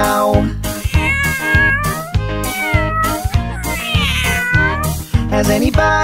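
A voice sings repeated meows over a bouncy musical backing with a steady beat, imitating a cat.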